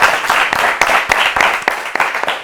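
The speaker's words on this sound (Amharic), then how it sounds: "ለነብዩ አጨብጭቡለት በደንብ አድርጋችሁ" An audience at an Ethiopian children's TV quiz competition applauds a sixth-grade student contestant, giving loud, continuous clapping from many hands with sharp individual claps standing out.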